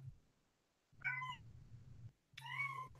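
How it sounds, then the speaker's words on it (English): A cat meows twice, close and fairly quiet, each meow rising then falling, with a soft low hum between. "Sorry, that's one of my cats meowing."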